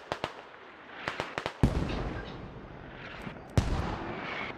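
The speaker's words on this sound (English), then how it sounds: "Getting VaC mortars down, I think." Mortar rounds thump and boom in the Squad video game during an Old Knights versus VaC and NC match on Gorodok, a series of sharp distant blasts followed by two heavier explosions with rumbling tails.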